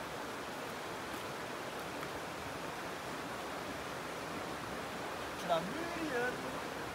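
A waterfall near Lauterbrunnen roars as a steady broadband rush, constant and fairly distant, with brief faint voices near the end.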